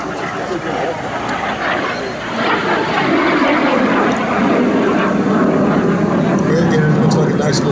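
L-39 Albatros jet rolling through a barrel roll at an air show, a steady loud roar that swells and shifts in pitch as it passes, with crowd chatter underneath.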